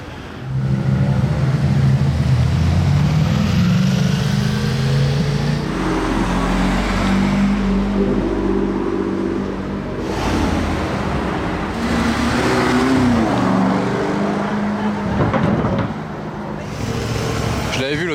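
A late-model Ford Mustang drives past on a sunny winter day in Monaco, engine rumbling and revving in several surges, loud and close, with street noise and other cars around.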